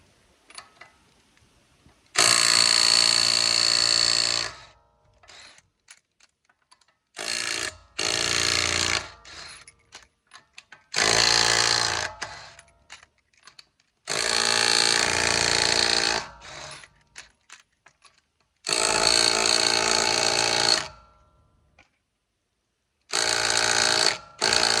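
Five or six bursts of an impact wrench take the lug nuts off a 2020 Mazda CX-5 during a rear brake job, each loud rattling burst lasting a couple of seconds with silence between.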